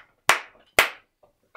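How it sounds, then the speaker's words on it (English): Two sharp, separate hand claps about half a second apart, close and loud in a quiet room, each ringing briefly before fading, followed by faint small taps. "Would you mind clapping too?"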